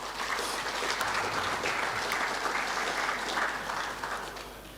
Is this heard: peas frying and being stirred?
no